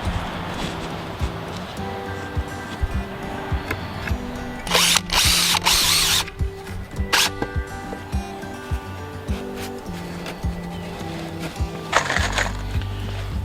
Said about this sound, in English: line it up the best you can and screw them in